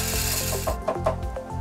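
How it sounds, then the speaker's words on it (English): A lab grinder shakes a sealed jar back and forth at high speed to pulverize hair into fine powder, giving a continuous close rattling, ratcheting mechanical churn with rapid repeated knocks. "The grinder shakes the jar back and forth at very high speed, and the hair is pulverized into a fine powder."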